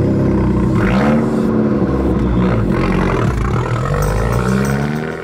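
An Abarth 595 Competizione, a Fiat 500-based hot hatch, revs its engine loudly and steadily up close on the Col de Turini rally stage, with throttle rising and falling and no talk.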